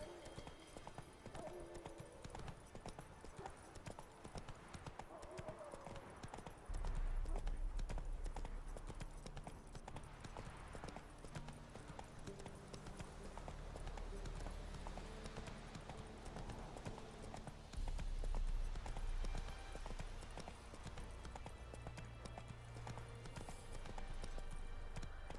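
Roach the horse gallops through The Witcher 3's open world, a steady clip-clop of hooves with occasional snorting, heavier thuds at moments, under quiet game ambience and no talk.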